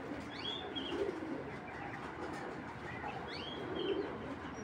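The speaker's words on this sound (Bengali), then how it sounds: "মাদি কবুতর" A young female breeding pigeon, tagged 2022, coos softly in two low rolling phrases amid faint background chirps of other birds in a loft.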